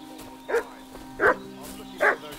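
Dog barking in the medieval video game Kingdom Come Deliverance II, three evenly spaced barks over a steady low hum of ambient game sound.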